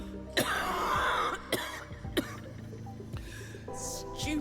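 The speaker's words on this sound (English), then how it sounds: "She breaks into another cough and collapses to one knee." A woman coughs several times in sharp, broken bursts, close and loud, with a strained throaty quality over a low steady background.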